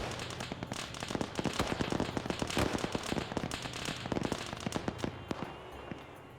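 Repeated explosion impacts from high-explosive rounds in the military game Arma, landing just outside range: a dense run of sharp cracks and pops over a steady rumbling bed, moderately loud and continuous throughout, with no voices.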